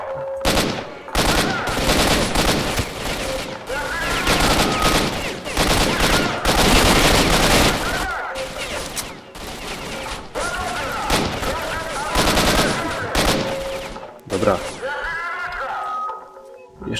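Automatic gunfire from a first-person shooter video game, firing in repeated long bursts with short gaps between them, loud and close, with someone talking at times.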